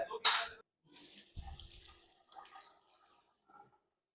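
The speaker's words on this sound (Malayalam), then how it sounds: "കൈ കഴുകാൻ എനിക്കറിയാം, ഞാൻ വീഡിയോ എടുക്കല്ലേ." Hands being washed under a running water tap in a room, a short splashy burst followed by softer intermittent trickling and splashing, fairly quiet and close.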